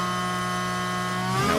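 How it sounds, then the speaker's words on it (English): Racing car engine in the F1 Manager 24 video game at the Las Vegas circuit: a steady high-pitched harmonic whine that holds level, then rises sharply in pitch near the end. "we've got engine noise"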